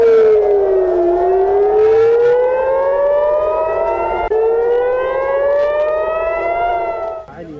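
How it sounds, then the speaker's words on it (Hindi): Civil defense air raid sirens wailing over Israeli cities, a loud continuous tone sweeping slowly up and down in pitch, sustained for several seconds before fading at the end. "इजराइल के कई शहरों में रात से ही सायरन की आवाज सुनी जा सकती है।"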